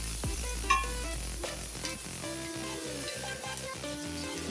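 Spring onion sautés in a pan with a steady sizzle and a few spatula scrapes, set under rhythmic background music.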